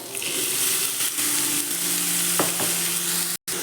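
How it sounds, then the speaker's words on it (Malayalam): Chopped onion and green chilli fry in a pan for a Malayalam chicken, egg and soya thoran, giving a steady, loud sizzle with a few stirring scrapes and no talking. "അപ്പോൾ നമ്മളിതിലേക്ക് ചെറുതായി അരിഞ്ഞ വലിയ ഉള്ളി ഇതിലേക്ക് ഇടുക."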